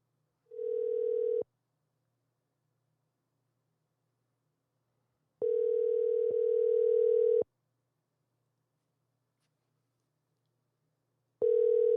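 Outgoing call ringback tones on a telephone line: three separate steady buzzing tones about five seconds apart, the middle one longer, with silence between them and no voices.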